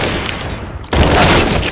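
A flashbang grenade goes off in the video game GTA 5: a muffled lull, then a sudden loud burst of noise that stays dense and roaring to the end.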